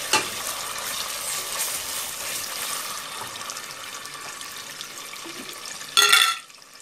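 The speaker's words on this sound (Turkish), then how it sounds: "Makarnamızın salçasını kavuruyoruz" Tomato paste sautéing in a pan for a pasta sauce, a steady close sizzle with faint stirring scrapes, ending in a brief louder hiss before cutting off.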